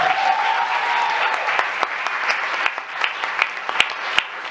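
A school board meeting audience applauds with sharp, scattered claps over a busy crowd background, while a voice trails off at the start.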